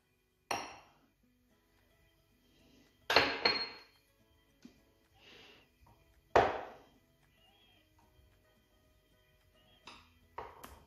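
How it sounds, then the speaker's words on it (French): Clinks and knocks of a utensil against a bowl while yeast is stirred into warm water for homemade hamburger buns, in a few separate bursts with quiet gaps between them. "dans l'eau, je vais faire fondre ma levure"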